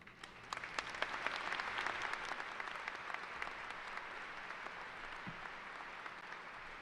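A crowd at a high school graduation applauds steadily, a dense wash of clapping that holds at an even level for several seconds, heard from a distance in a large hall.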